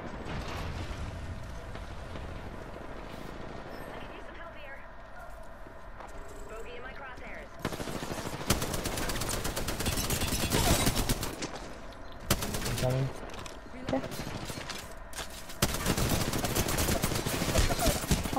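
Rapid gunfire bursts in a video game arena match, with dense automatic fire in repeated volleys that grow louder in the second half, mixed with a player talking excitedly over the action.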